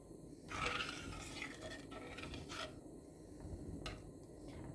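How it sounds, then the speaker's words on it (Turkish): Semolina in milk being stirred in a pot, a steady scraping, rasping rub with occasional spoon scrapes, close and fairly quiet, with no voices. "Şöyle ara ara karıştırıyorum."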